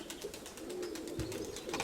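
A steel-grey pigeon coos softly nearby, a low murmuring call under a busy flutter of other birds in the loft.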